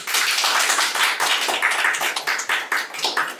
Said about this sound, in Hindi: आज से ये रहे हमारे नए शिक्षा मंत्री, बजाओ ताली।